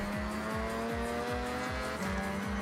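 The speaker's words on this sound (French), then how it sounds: "J'essaye comme je peux et ça tapote, ça frotte." A race car in a Forza Horizon RX7 tournament, with a loud engine drone and a repeating rhythmic pulse of bumps and rubbing that keeps going steadily without voices.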